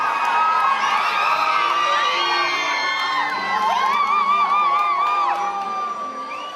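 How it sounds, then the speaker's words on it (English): Big crowd cheer at a public appearance as a song plays, a dense roar of whoops and shouts with high excited yells swooping above it, loud and steady for the whole stretch. "And then I hear this big cheer."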